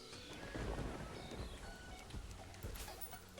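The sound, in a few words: rain and thunder in the video game Terraria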